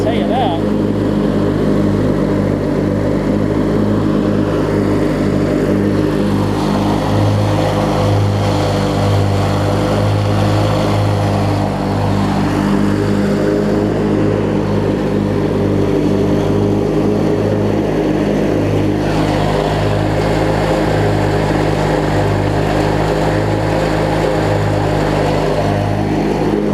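Opposed-twin engine of a Craftsman LT1000 riding mower idling and running nearby, a steady low hum that holds for the whole stretch with slight shifts in pitch and talking over the top.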